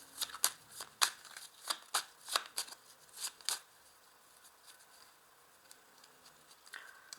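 A 32-card deck of playing cards being shuffled by hand, a quick run of crisp riffling snaps close by that thins into softer, scattered card flicks toward the end, with no voices.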